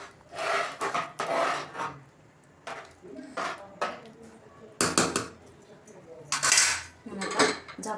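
A spoon scrapes and stirs through cooked Indrayani masala rice mixed with ghee in a pressure cooker pot, with repeated rasping metal strokes in irregular bursts and short pauses between.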